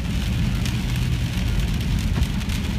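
Rain pours outside a house in a dense, even, steady hiss that fills the whole moment, fairly loud and close, with no voices.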